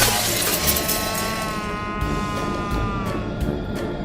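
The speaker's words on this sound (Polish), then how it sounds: "Ja nie chciałam rozbijać lustra, ja przepraszam." A mirror shattering in the horror video game Visage, a loud crash followed by glass fragments tinkling and ringing as they scatter, close and clear.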